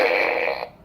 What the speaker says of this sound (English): That's right, fart gun.